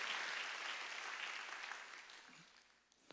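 A church congregation at a Wednesday worship service claps together, a soft, distant wash of applause that gradually dies away.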